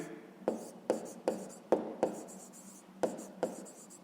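Pen writing by hand during a fifth-grade maths lesson, with seven sharp tapping strokes spaced unevenly over a few seconds, close and fairly quiet, with no talking.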